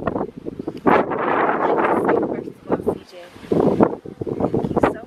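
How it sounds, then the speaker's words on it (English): Strong wind buffets the microphone in loud, rumbling gusts, with people talking underneath. "I would like to say it's so windy out here,"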